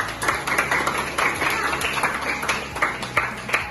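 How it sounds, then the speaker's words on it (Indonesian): Students in a classroom clap their hands, a lively but uneven patter of individual claps from a modest group, with a faint hum beneath. "Silakan tepuk tangan gembira."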